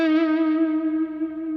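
A single sustained guitar note held for under two seconds, its pitch wobbling with the uneven, unsteady vibrato of a beginner player; steady and clear with rich overtones and no talking.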